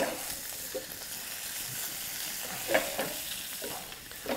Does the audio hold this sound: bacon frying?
yes